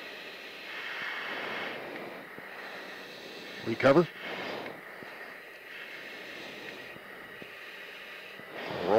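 Aermacchi MB326M Impala jet aircraft in flight, heard from inside the cockpit as a steady muffled engine and airflow drone under intercom talk, with a sharp crackling burst partway through.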